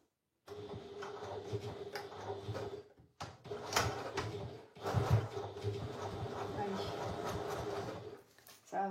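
Home sewing machine topstitching the full length of a zipped lining pocket on a fabric handbag, a steady mechanical whirr running in bursts with a brief pause, close and moderately loud.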